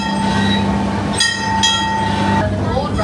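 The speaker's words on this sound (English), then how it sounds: "Time to try the train." A park train at Six Flags Fiesta Texas rolls along in a steady, loud rumble with a sustained tonal whine and brief brighter rattles, running continuously throughout.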